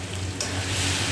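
Spice paste fries in oil as it is stirred for a chicken curry, giving a dense close sizzle with a low hum underneath and a brief burst of stirring.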